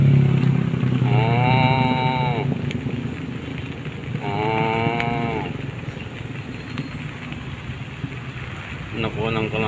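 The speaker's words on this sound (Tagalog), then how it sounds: "Si Haring kalabaw." Carabao (water buffalo) on a farm lowing twice in long, drawn-out calls, a third shorter call at the end, heard close over steady wind noise and outdoor rumble.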